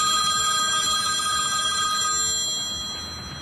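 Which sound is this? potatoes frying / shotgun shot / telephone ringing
telephone ringing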